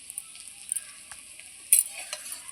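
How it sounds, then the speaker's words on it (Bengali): Pointed gourd fries in a little oil over very low heat, giving a faint, thin, high sizzle broken by soft scrapes and a louder clink or two as the pieces are turned, close and quiet with no voices. "দেখুন উল্টে পাল্টে খুব সুন্দর করে কম তেলে খুব কম হিটে ভেজে নিতে হবে।"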